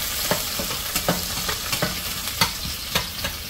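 Onion and masala roasting in a pan for a crab curry: a continuous dry sizzle with regular sharp scraping strokes of a spoon stirring, close and steady throughout.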